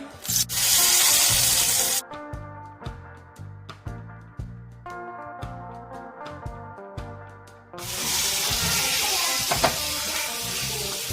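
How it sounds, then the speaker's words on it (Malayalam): Fish frying in a pan gives a loud, broadband hiss for about two seconds. It gives way to a stretch of rhythmic tonal music, and then a steady sizzle returns for the final few seconds. "അടുത്ത് നമ്മൾ മീൻ വറുക്കാനായിട്ട് പോവാട്ടോ"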